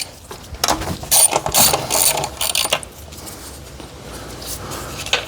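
Hand ratchet clicking as it turns a bolt in the engine bay of a 2020 Toyota Avalon, several quick bursts of close, sharp pawl clicks with pauses between them.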